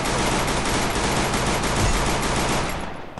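Dense, continuous gunfire from Free Fire roars loud and close for about three seconds before tailing off at the end, with no voices.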